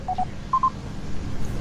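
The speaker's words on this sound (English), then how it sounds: "That's the sound of an email." A phone chimes an email notification: two quick pairs of short, clear electronic beeps over steady background noise from a Supreme Commander: Forged Alliance game, with no voices.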